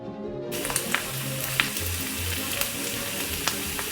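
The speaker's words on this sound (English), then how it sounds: "Oh, the beautiful, sizzling, hot steaks." Steady loud sizzling of beef steaks frying in a hot pan, with scattered crackles and pops over a dense hiss.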